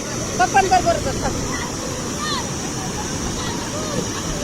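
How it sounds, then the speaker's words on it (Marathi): The waterfall at Dhom dam gives a steady, broad rushing roar that fills the background while several people talk and call out nearby. "कसलं मजा आहे धबधबा"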